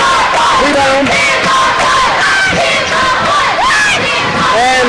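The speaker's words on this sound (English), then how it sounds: "And the cheerleaders are screaming for 100." Cheerleaders scream and shout together at a high school basketball game between Houma Christian and Madison Prep, a loud sustained crowd of high-pitched yells rising and falling for several seconds.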